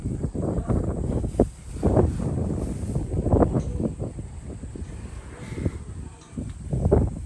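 Cool outdoor wind blows in uneven gusts that buffet the microphone, rising and falling in soft low rushes with no voices.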